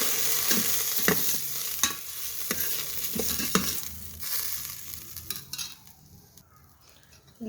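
Chana dal fries in a Geek Robo electric cooker while a utensil stirs it, giving repeated scraping knocks over a soft sizzle up close. The stirring thins out toward the end.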